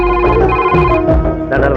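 A telephone rings in a Telugu film scene, its steady electronic bell tones loud and continuous with layered musical harmonics and no voices over it.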